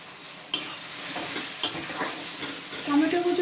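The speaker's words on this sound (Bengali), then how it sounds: "পেঁয়াজটা আমার এখানে ভাজা ভাজা হয়ে গেছে। আমি এখন টমেটো কুচিগুলো দিয়ে দেব।" Chopped tomatoes hit oil with browned fried onions for mutton kosha, setting off a steady close sizzle with sharp spoon clinks and scraping stirs against the pan.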